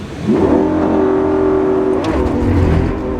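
A Lamborghini Aventador SVJ launches hard from a standstill, its engine howling in a loud sustained rise with a brief higher squeal of spinning tyres before the note shifts down.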